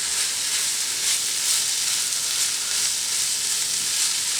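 Riced cauliflower with Italian seasoning sizzles and fries steadily in a pan, a continuous close, bright hiss with faint stirring scrapes and no voices.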